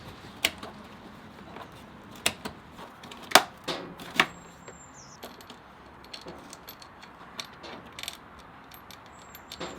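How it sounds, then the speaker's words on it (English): Plastic of a rear light piece being cut on a Royal Enfield Interceptor 650 motorcycle: repeated sharp snips and clicks with small mechanical rattles, close and irregular over a low background. "I'm just going to cut the plastic here and then I can yank that out of the way."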